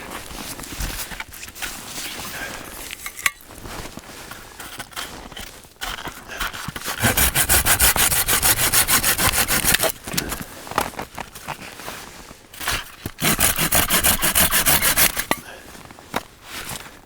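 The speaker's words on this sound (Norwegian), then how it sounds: "Jeg må sage de her." A hand saw cuts through dry firewood outdoors, steady rasping back-and-forth strokes in long loud bursts separated by pauses and softer scraping and handling of the wood, close by.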